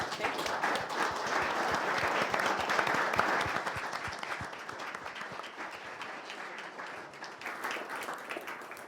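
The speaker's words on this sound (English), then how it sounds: "A round of applause for our speakers." Audience applause for panel speakers at a conference session on social economy and enterprises, a steady wash of many hands clapping that fades gradually toward the end, with no talking over it.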